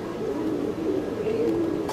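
A pigeon coos in low, soft rolling notes, close and fairly loud, with a faint hum of background noise underneath and no talk.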